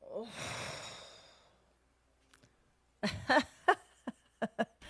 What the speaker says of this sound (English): Take a breath in and blow it out.